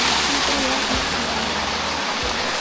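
A waterfall roaring nearby in a jungle stream where people are eating, a loud, continuous rushing wash of water with a deep low rumble, steady throughout.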